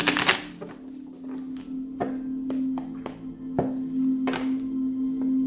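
Tarot cards being shuffled make a series of soft thumps, taps and brief riffles at uneven intervals, close by, over a steady low electrical hum.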